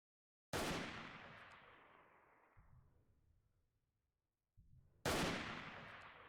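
Two loud sniper rifle shots ring out in the video game Freeman: Guerrilla Warfare, each a sharp crack followed by a long rolling echo, with a brief thud of movement between them and no talk.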